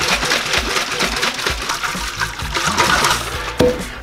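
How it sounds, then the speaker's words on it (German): Tank sealant liquid pours from a small plastic cup into a Horex Regina motorcycle fuel tank, giving a close, continuous trickling and splashing sound with small gurgles. "Am besten, ich fülle das hier in so einen kleinen Plastikbecher um und gieße das dann von hier"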